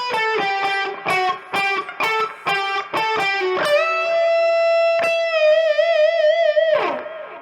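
Distorted electric guitar plays the closing phrase of a riff: a quick run of clipped, picked notes, then a long sustained note with wavering vibrato, ending in a downward slide, with no talking.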